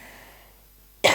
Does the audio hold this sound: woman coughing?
yes